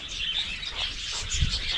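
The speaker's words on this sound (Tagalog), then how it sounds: "Yung ating ibon na nakawala mga kaprobinsya" An escaped pet bird that has come back, chirping in short high tweets repeated over a brief moment against faint outdoor background.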